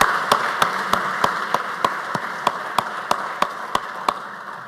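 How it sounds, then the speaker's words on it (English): At a building dedication and honouring ceremony, a single distinct clap repeats at an even, slow rhythm over a steady hiss of room noise, close and crisp rather than a crowd. "we should give a lusty round of applause"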